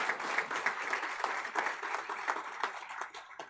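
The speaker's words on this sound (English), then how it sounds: "May I request everyone to please join me in giving a big round of applause to Colonel Dr. Bishwajeet Choubey sir," An audience claps at an expert talk on leadership in construction, a dense, even round of applause that keeps going from start to finish.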